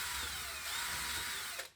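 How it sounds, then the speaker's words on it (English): A power drill whines steadily while boring a hole through a PET bottle lid, a brief high-pitched continuous drilling sound that cuts off abruptly at the end. "I'm now going to drill a hole through the lid."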